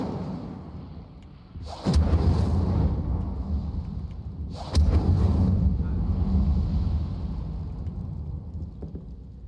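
Incendio fire spell cast in Hogwarts Legacy: two sudden roaring blasts of flame, each followed by a sustained, rumbling whoosh that slowly fades.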